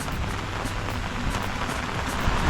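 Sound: rain

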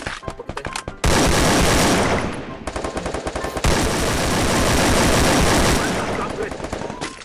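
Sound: gunfire in the video game Free Fire

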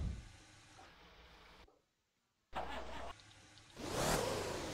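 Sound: car engine in Motor Town video game

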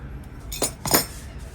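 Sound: teaspoons clinking

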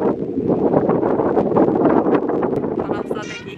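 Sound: strong wind on a seaside coastal road

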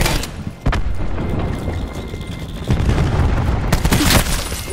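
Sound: cluster grenade explosion in the video game Call of Duty: Black Ops 4

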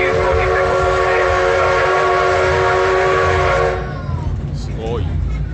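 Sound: steam locomotive whistle

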